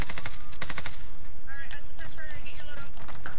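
Machine gun laying down suppressing fire in Call of Duty: Modern Warfare, rapid loud bursts of automatic shots that trail into further gunfire, with voices talking over it.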